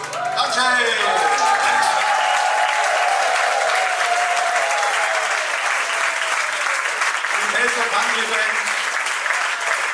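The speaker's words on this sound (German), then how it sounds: "Danke für den Applaus" An audience in a club loudly applauds and cheers after a country band's performance, dense sustained clapping that fills the whole span, with a voice briefly audible over it near the start.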